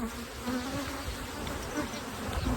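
Honey bees buzz steadily and densely around brood frames in an open nuc hive, a close, continuous swarm hum with no talking.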